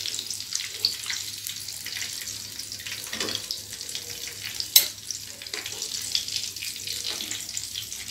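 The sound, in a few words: Chinese wontons frying in oil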